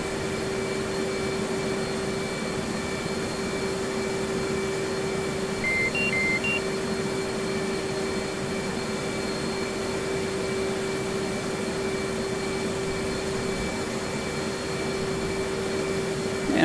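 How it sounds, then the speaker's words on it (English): Left engine of an F/A-18 Hornet starting up in DCS World, a steady whining drone with a constant tonal hum and a few brief cockpit beeps partway through. "And now we'll go ahead and get the left engine up and running."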